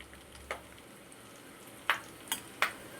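Peanuts frying in oil for pulihora, a faint low sizzle broken by a few sharp pops and crackles, with no talk.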